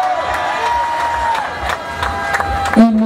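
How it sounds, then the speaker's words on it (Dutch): Crowd cheering and clapping outdoors at a cyclocross race in Maldegem as the winner is honoured, a steady, fairly loud wash of voices with scattered claps and some tonal ringing throughout. "Uw applaus voor winnaar Sven van Toernat."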